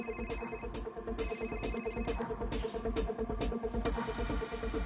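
A phone rings in repeated electronic bursts, steady and fairly loud, continuing for several seconds with no voices.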